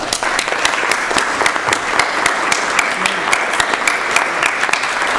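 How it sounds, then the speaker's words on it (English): Steady, dense applause from a conference audience for a panel of speakers fills the space, with individual sharp claps standing out and faint voices mixed in. "Can we get a round of applause for our panelists?"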